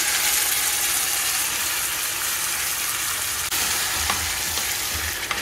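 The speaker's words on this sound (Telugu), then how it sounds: "ఇవన్నీ వేగిపోయిన తర్వాత దీనిలో చింతపండు గుజ్జు వేసేస్తున్నా" Tamarind pulp poured into a pan of fried tempering for tamarind pulihora sets off a loud, steady sizzle and crackle that fills the whole stretch with no one speaking.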